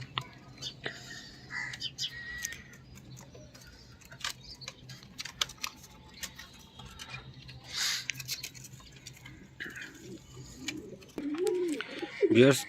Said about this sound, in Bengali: ফ্লাইং করা কবুতরগুলো নেমে গেছে